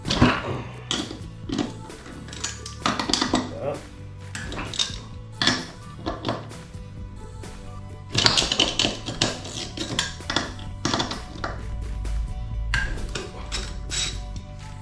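Metal clanks and clinks from a 14 mm socket pulling brake hardware off a motorcycle front end, with repeated close tool-on-metal knocks and rattles in irregular bursts, no talking.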